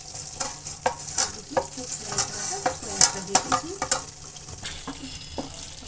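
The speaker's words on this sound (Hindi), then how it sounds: "अब हम इसमें पनीर ऐड करने जा रहे हैं" Paneer stirred into sizzling masala gravy in a pan, with a steady frying hiss under repeated scraping stirs and clinks of a spoon against the pan, close and fairly loud.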